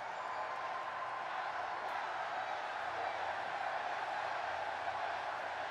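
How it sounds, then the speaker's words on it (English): Chicago wrestling crowd at a Raw event roaring with a sustained, dense chant, loud and continuous throughout with no break in the noise. "You get a yes chant from the Chicago crowd."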